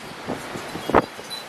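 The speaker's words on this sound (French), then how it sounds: "Là le vent il se renforce" Strong cyclone wind gusting outdoors, a rushing roar buffeting the microphone with rustling, swelling into a louder burst near the end.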